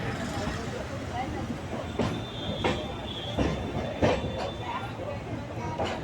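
A passenger train pulls into Hazrat Nizamuddin railway station, a heavy continuous rumble with rhythmic wheel clacks and a thin, sustained squeal of wheels on rail, heard from on board.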